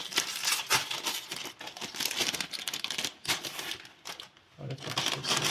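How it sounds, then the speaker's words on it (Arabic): A plastic bag of pâté torn open by hand, with steady crinkling and rustling close up, in short bursts that pause briefly near the end. "هنفتح الباتيه بتاعتنا"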